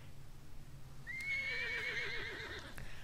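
A single horse neighs in a Lord of the Rings Online style fantasy video game, a clear, wavering whinny rising and trembling for about a second and a half over quiet background noise.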